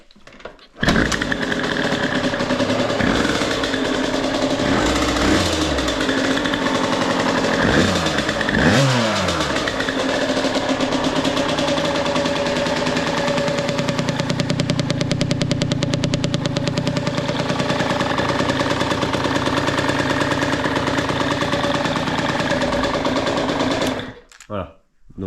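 A Bidalot 50WR 50cc motorcycle engine starts and runs steadily for about twenty-five seconds, a close, buzzy two-stroke drone with brief blips of revving early on before it cuts off.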